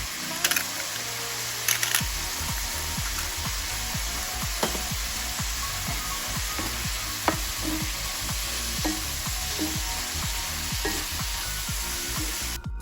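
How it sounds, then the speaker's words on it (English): Ackee and saltfish with black pepper being stirred in a pot, a steady sizzle under repeated scraping spoon strokes in an even rhythm, close and clear, no talking. "we're going to give everything a nice stir just to make sure it's completely combined and evenly distributed throughout the pot"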